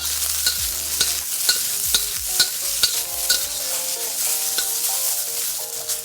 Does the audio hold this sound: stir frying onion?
yes